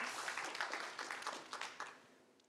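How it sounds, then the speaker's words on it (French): Audience applause at an awards presentation, soft, somewhat distant clapping in an irregular patter that gradually thins out. "On peut l'applaudir en attendant qu'on vous mette la vidéo."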